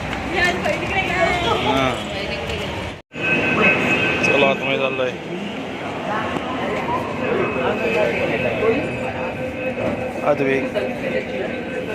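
A metro train rumbles and hums steadily nearby, with people chatting over the continuous rolling noise throughout.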